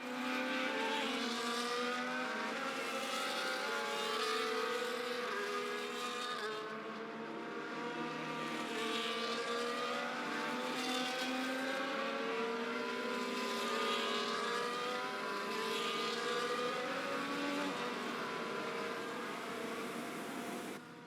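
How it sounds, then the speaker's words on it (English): Race cars on the starting grid in the F1 24 racing game produce a continuous loud engine drone with rising and falling revs, a dense mechanical roar that fills the whole stretch without speech. "As all the cars take their positions on the grid, the final preparations have been made"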